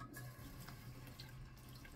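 Water running from a tap into a sink during a shave, a steady faint hiss and splash for about two seconds with no talk.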